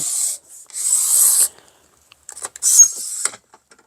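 A paper trimmer blade cuts through paper with short, close rasping slides, two longer strokes followed by several small scrapes and another brief rub, in an otherwise quiet room.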